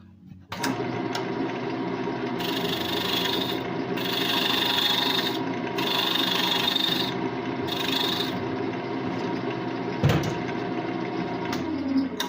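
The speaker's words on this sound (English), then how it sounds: "A little chamfer like that helps it go to match into the threads." A file rasps a chamfer onto metal threads in steady back-and-forth strokes, close and continuous, with a brief knock near the end.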